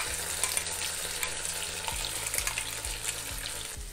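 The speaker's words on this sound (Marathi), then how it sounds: "तेलामध्ये मसाला छान परतून घ्यायचा" Ground spice paste with curry leaves sautéing in oil for a chickpea curry, a steady moderate sizzle with a few soft stirring knocks toward the end, no voices.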